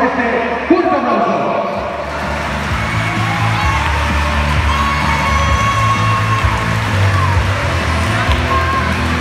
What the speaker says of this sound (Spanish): a los que recibimos con este fuerte aplauso